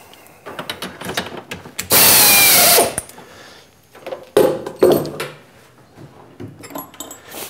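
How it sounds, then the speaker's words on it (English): A power drill whirs loudly in a short burst, drilling metal with a number 3 tap size drill for a 1/4-28 thread, surrounded by clanks and rattles of tools being handled on a workbench nearby. "the next tool that we need is the tap size drill"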